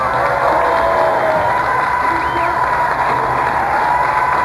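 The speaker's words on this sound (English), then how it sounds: "Round of applause for them anyway." A studio audience gives a loud, dense round of applause mixed with cheering and whoops, sustained and steady throughout.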